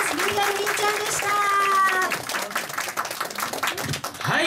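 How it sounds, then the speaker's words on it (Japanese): Applause from an audience rattles on throughout, with a voice and tonal sounds rising above it at first before the clapping continues alone. "じゃあもう一度大きな拍手よろしくお願いします。"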